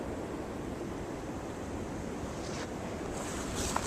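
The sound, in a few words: wind blowing snow in a blizzard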